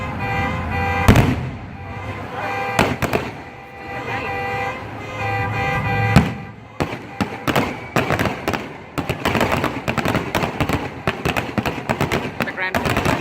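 Fireworks burst close by in loud, sharp bangs and crackling volleys, sparse at first and then coming in rapid clusters, with people's voices talking and reacting in the background.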